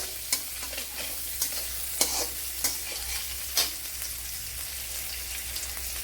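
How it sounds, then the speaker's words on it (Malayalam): Curry leaves sizzle and crackle in hot oil in a pan, with a steady frying hiss and a few sharp spatula scrapes and pops as they are stirred. "ഇനി കുറച്ച് കറി ലീവ്സ് ഇട്ട് കൊടുക്കാം ഇനി നല്ലപോലെ ഒന്ന് മൂപ്പിച്ചെടുക്കണം"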